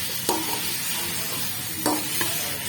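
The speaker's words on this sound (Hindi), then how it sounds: "तो अब जो है हम इसमें डालेंगे टमाटर। टमाटर डाल रहे हैं" Meat sizzles steadily in a kadai as tomatoes go in, with a few sharp scraping stirs breaking through the continuous hiss.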